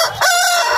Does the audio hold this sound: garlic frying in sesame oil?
no